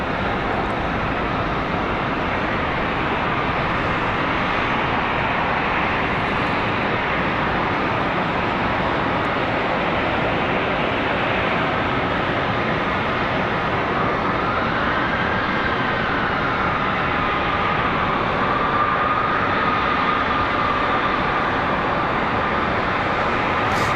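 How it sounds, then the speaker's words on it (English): An American Airlines Airbus A321 passes near Charlotte Douglas airport with a sustained, loud jet roar. A faint whine shifts slowly in pitch under the steady rumble. "This one right here, American Airlines 1203 from Buffalo, New York."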